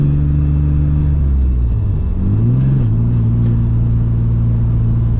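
A Nissan S14 engine runs steadily with a loud, low rumble while driving, its pitch dipping and then rising slightly as the revs change, with no voices over it.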